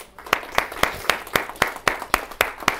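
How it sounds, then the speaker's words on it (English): An audience at a motivational talk claps in a steady unison rhythm, about four sharp, evenly spaced beats per second, close and distinct with quiet gaps between them. "Give that man a round of applause."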